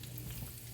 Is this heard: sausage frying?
yes